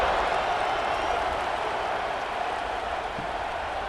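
Football stadium crowd before the opening kickoff of an Oregon Ducks vs. Oregon State Beavers college game, heard as a steady, dense roar of distant cheering that holds level throughout without clear individual voices.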